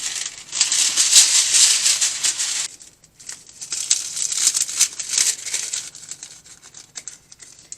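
Parchment paper crinkles and rustles up close in bursts of handling, pausing briefly before the crackling resumes.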